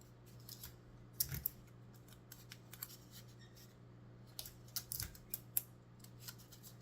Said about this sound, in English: line up your scissors with the end and snip that off